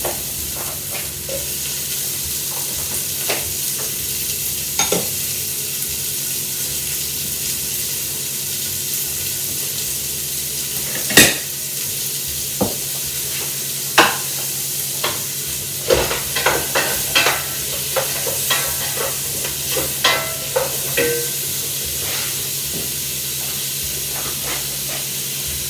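Lardons fry in a pan for a Normandy-style rabbit dish, a steady sizzle and hiss underneath sharp scraping and clacking as a utensil stirs them, with the stirring bursts growing busier toward the end.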